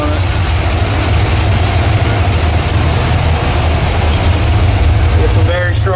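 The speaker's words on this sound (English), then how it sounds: "We'll just finish up a few pulls on the dyno to dial it in" A Corvette Z06 engine runs steadily on a dyno during a tuning pull, giving a loud, dense, constant roar with a deep low rumble throughout.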